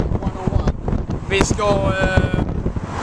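Strong wind buffets the microphone outdoors in bursts of low rumbling, with people talking over it and a few higher tonal sounds mixed in.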